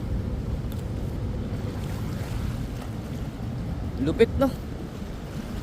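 Rough water from a wide river rumbles continuously with buffeting wind noise on the microphone, while someone speaks briefly over it.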